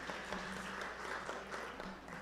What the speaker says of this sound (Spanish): Pueden aplaudir si quieren.